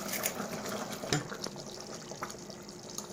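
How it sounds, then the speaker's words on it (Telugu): Taro root and tamarind pulusu stew simmering in a pot, a soft steady bubbling with faint liquid pops and a sharper splash near the middle, low in level. "పులుసు అయితే మరిగిపోయిందండి"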